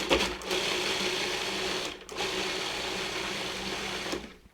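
A food processor chops and purees canned salmon, its motor running in a steady whirring drone that stops briefly midway before starting again, close and fairly loud.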